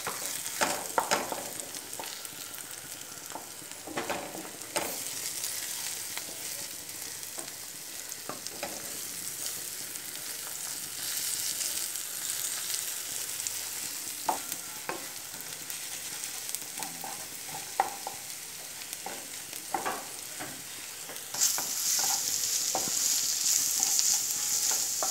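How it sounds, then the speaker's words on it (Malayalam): Egg thoran, a Kerala scrambled egg dish, stir-fried in a pan, with steady sizzling and repeated scraping, stirring strokes throughout, loud and close with no talk. "ഇപ്പോൾ ഇതൊരു ഹാഫ് കുക്ക്ഡ് ആയിട്ടുണ്ട് അതിനുശേഷം നമുക്കിതിന് ചിക്കി പൊരിച്ചു"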